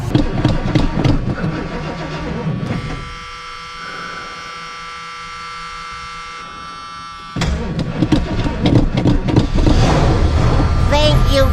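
A cold car engine cranks and catches after the gas pedal is pumped, a loud ragged start that settles into a steady mid-pitched idle, then revs back up, with voices talking over it.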